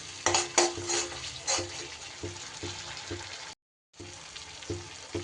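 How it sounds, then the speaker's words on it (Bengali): Spice paste frying in oil and ghee for Katla fish curry, a crackling sizzle with rhythmic stirring scrapes, quiet and close, briefly dropping to silence before the stirring resumes. "তেল ঘি কিন্তু একদম ওপরে ভেসে উঠেছে। এবার বুঝে নিতে হবে যে আমার মশলা কষানো হয়ে গেছে।"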